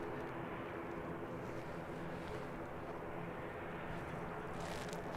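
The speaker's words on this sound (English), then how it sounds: "not too far away we've got a A321 Neo coming in from the Gold Coast." An Airbus A321neo inbound from the Gold Coast approaches Christchurch Airport, a steady, faint distant engine roar with wind noise, no talking.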